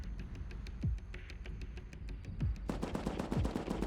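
Automated turret in a survival video game firing rapid, evenly spaced shots in bursts, with a sparser stretch followed by a louder, denser volley, close and sharp over low background rumble.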